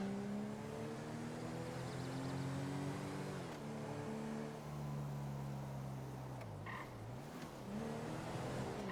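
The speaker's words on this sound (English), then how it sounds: "I just remembered I was meant to give you guys a burnout" A Ford XR6 revs hard through a burnout in GTA 5, engine droning steadily with pitch rising and dipping over several seconds, a continuous loud roar with a brief sweep near the end.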